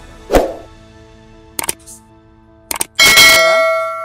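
A soft thump and a few quick clicks, then a bright ringing bell ding that sustains and slowly fades away.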